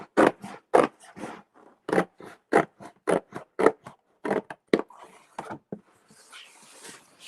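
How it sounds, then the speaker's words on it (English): Scissors cut through Ram Board in a workspace, a rapid series of crisp separate snips and scrapes, close and fairly loud, with a softer rustle trailing at the end. "I'm just using my scissors here."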